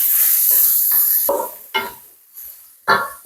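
Shrimp roast masala being stirred in a pan, a loud hissing sizzle that fades, then a few separate spatula strokes bringing short bursts of frying noise, close up with no speech.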